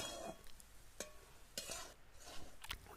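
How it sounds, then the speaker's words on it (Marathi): Zunka, a gram-flour dish, is stirred in tempering oil in a pan. Soft scraping strokes and a faint sizzle come in a loose rhythm, quiet and close, with no voices. "आता या तेलामध्ये आपण फोडणी घेतली ना असाच याच्यात हलवून घ्यायचा"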